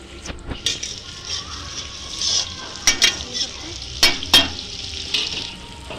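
Chicken curry cooking in a pan on a rooftop, with a steady sizzle and stirring scrapes, occasional sharp clinks from the utensil against the pot.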